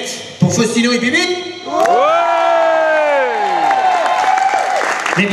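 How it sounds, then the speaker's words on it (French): An audience at a show's battle contest cheers, yells and claps loudly for the contestants in a swelling crowd roar with strong vocal shouting, following a brief sharp burst near the start. "À l'applaudimètre pour Faustino et Bibit"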